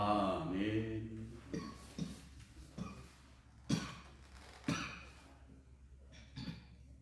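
During a church service, a pastor coughs several times in separate harsh bursts with short gaps between them, close and fairly loud, after a brief stretch of voice.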